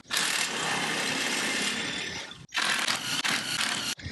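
An impact driver fitted with a socket adapter backs screws out of an old tablesaw during cleanup, a loud close continuous whirring and rattling burst, a brief stop, then another run, with no voices.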